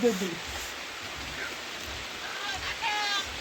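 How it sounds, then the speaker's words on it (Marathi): Steady rain hisses throughout at an even level outside a village Chinese food stall in Konkan during the Ganesh festival, with faint background sounds mixed in. "मस्त पाऊस पडायला लागला"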